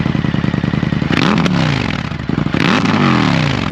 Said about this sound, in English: Indian FTR exhaust.